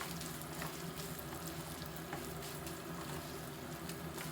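Kashmiri red chillies and tempering spices frying in hot oil for a red chutney, a steady dense sizzle and crackle with no pauses and nobody speaking.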